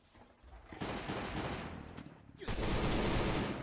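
Bursts of FN SCAR rifle fire in a first-person shooter video game, two close, loud stretches of rapid automatic shots separated by a brief pause, with a voice faintly underneath.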